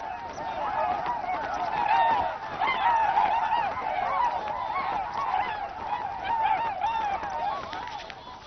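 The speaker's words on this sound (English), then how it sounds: "Migratory birds sense the turning season and begin their journey south." A large flock of migratory geese in Alaska's Denali wilderness honks continuously, many overlapping calls forming a dense, steady chorus from a moderate distance.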